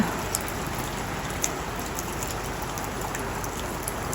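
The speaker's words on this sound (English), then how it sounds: "Doggies are having a walk in the rain." Steady rain pattering on a surface, a constant wash of drops with occasional louder hits, no voices.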